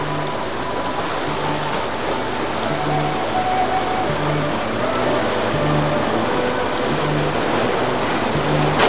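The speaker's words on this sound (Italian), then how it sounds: "Il fiume è il Piave." The Piave river flows in a steady, dense wash of water that fills the whole stretch evenly, with faint tonal hums drifting underneath and no one speaking.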